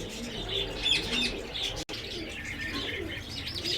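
Pigeons or doves cooing among chirping birds at an open-air Sunday bird market on Kasi Road in Quetta, a continuous busy chorus of overlapping calls and tweets with a brief dropout midway.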